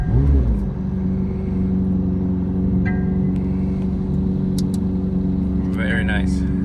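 A McLaren 750S engine thrums at a steady, loud idle with a deep low rumble throughout, briefly swelling at the start, while people talk over it.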